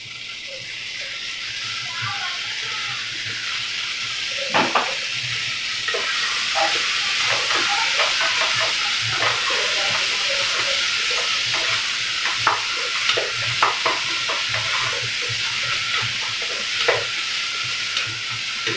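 Tomato, curry leaves and crushed ginger and garlic frying in a pan for vegetable sambar, a steady close sizzle running throughout with scattered stirring scrapes and clicks, and a voice speaking faintly now and then.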